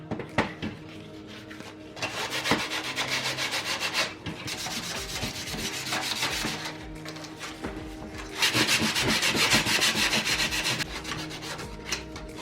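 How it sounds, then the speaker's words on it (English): Fiberglass dash edges on a Nissan 350z custom dash are sanded by hand with 150 grit sandpaper, giving close, scratchy rubbing strokes in bursts with brief pauses. "I'm just going to a 150 grit and just sand all them"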